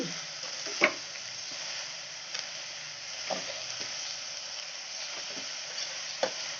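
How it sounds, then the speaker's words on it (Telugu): Spinach fries in ghee in a pan, with a soft continuous sizzle and a few sharp pops and spatula clinks scattered through, close and fairly quiet. "నెయ్యిలో కొంచెం వేగాలి."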